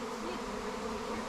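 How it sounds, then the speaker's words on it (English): A swarm of bees buzzes around a tree in a steady, faint, continuous drone with no talking. "I'm seeing a lot of bees collecting on this tree."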